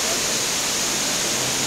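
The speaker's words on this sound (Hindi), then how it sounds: "झरना कितना प्यारा सा ऊपर से चला आ रहा है" Indoor waterfall inside Dubai Mall, a steady, broad rush of falling water filling the space evenly and close by, with no break or change across the short stretch.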